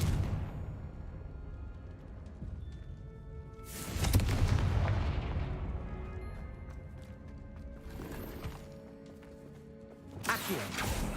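The Confringo blasting spell goes off in the Hogwarts Legacy video game with a booming explosive burst that rumbles and slowly fades, followed by quieter magical swells and a final sharp crack near the end.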